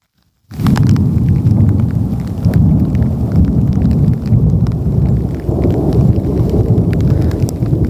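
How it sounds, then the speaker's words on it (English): A continuous low rumble of monsoon thunder rolls on for several seconds, mixed with steady rain, with no voices. "I'm waiting for the thunder."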